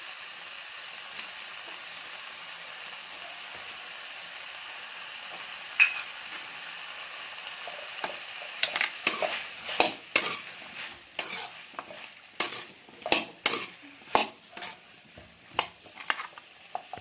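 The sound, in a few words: sautéing brinjal in a pan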